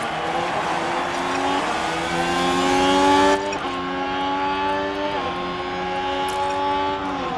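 Formula 1 cars from F1 Manager 2023 surge off the line at the start of a sprint race in Qatar, a loud layered engine roar climbing through repeated gear changes, several cars revving together without a break.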